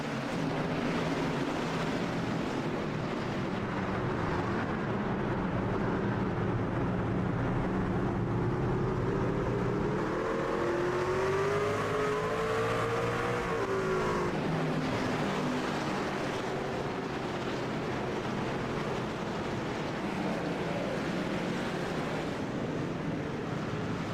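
NASCAR stock cars race at Sonoma Raceway in the iRacing sim, a steady loud engine roar whose pitch swoops up and back down midway, with no talking.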